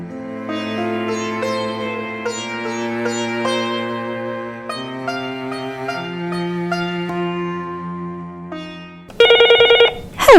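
A telephone rings for an incoming caller on a call-in show: a short, loud electronic ring bursts in at the very end, right after a sustained music bed.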